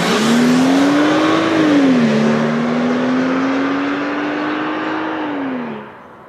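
2013 BMW X1 xDrive 35i accelerating hard, its engine note climbing steadily through the gears with a brief dip at a shift, loud and close, then cutting off as the throttle lifts.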